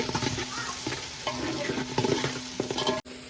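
Onion, green chilli and ginger frying together in a pan, a continuous crackling sizzle with a spoon scraping and stirring through it, close and fairly loud, ending in a brief drop near the end.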